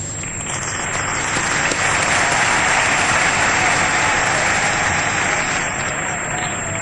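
A large audience applauds the president's representative at a formal assembly in Kinshasa, giving dense, loud, sustained clapping that fills the whole stretch with steady crowd noise.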